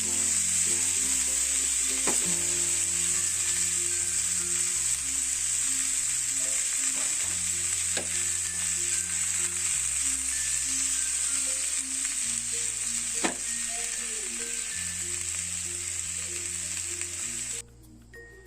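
Chicken shashlik fries in a covered pan on a stovetop, giving a continuous bright sizzle under steady background music, which cuts off abruptly near the end.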